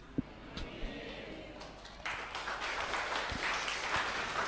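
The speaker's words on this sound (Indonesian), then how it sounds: "Kenapa tepuk tangan?" Applause from an audience at an Islamic religious lecture, starting sparse with a few scattered claps and then swelling into steady, fairly loud clapping from a room full of listeners.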